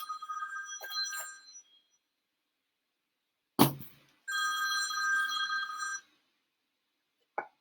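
A mobile phone rings in two long electronic ringtone bursts separated by a pause, loud and close, with a sharp knock between them and a brief tone near the end.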